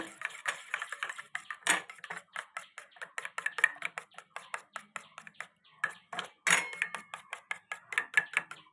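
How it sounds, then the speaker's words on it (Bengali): A spoon mixes egg into tomatoes in a bowl with quick, steady, rhythmic clicking taps against the dish, close and clear, with a couple of louder scraping knocks along the way. "ধুয়ে নেওয়া চামচ দিয়ে ভালো করে এটাকে মিক্সিং করে নেব।"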